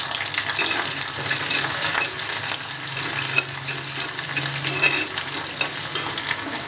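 Crushed garlic and chillies frying in oil for a red amaranth (lal math) bhaji make a steady, close sizzle that crackles on for the whole stretch while being stirred.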